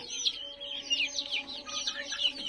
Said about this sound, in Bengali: দেশি মুরগি কিছু বাচ্চা আছে আমার কাছে